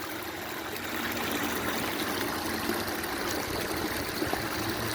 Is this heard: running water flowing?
yes